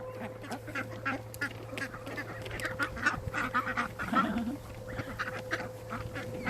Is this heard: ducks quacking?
yes